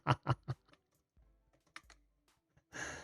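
Typing on a computer keyboard during a live call-in show, a few quick clustered keystrokes followed by sparse taps and a final burst of clacking, close to the microphone with no speech.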